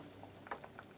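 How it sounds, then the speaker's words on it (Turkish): An okra dish simmers in a pot on the stove, a faint soft bubbling with small pops over about a second of quiet. "Kaynıyor şu anda."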